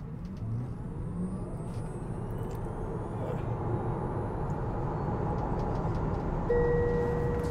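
A Tesla Model Y Performance accelerating hard from a standstill to 100 km/h, a steady road and motor whir building inside the cabin, with a faint electronic tone near the end and no talking.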